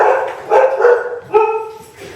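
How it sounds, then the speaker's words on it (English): Dogs barking close by in a home kitchen, a few loud yipping barks in quick bursts with short pauses between them. "The dogs are barking"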